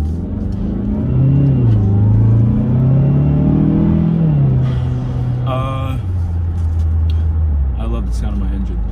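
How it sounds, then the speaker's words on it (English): The turbocharged engine of a 2018-or-later Mazda 6 rumbles close by, its pitch rising and falling through a few revs, with a voice heard over it at times. "I love the sound of my engine."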